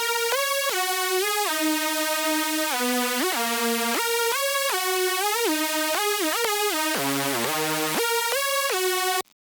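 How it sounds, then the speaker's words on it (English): A bright, clean Serum triangle-wave synth lead plays a bouncy counter-melody, notes stepping up and down in a steady rhythm before cutting off abruptly at the end. "So I used Serum for that. Just a simple triangle wave."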